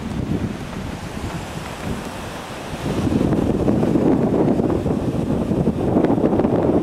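Wind at a beach in Playa del Carmen, a steady roaring rush buffeting the microphone with surf mixed in, growing louder and heavier about halfway through, with no talking.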